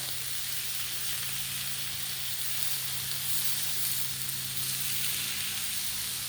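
Country style ribs sizzle on a Blackstone griddle just after flipping, giving a loud, steady hiss that fills the whole stretch with no break and no voices.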